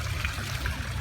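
Small garden waterfalls in Nyon, Switzerland, give a steady, close trickling and splashing of water with a low rumble underneath, continuous and fairly even throughout.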